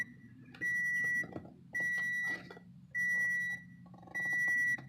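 A 2015 Toyota Corolla S gives four evenly spaced electronic beeps, each about half a second long, fairly quiet against a near-silent background at night.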